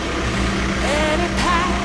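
A car drives past outdoors, its mid-pitched engine rumble holding steady and swelling slightly over about two seconds, fairly close and loud.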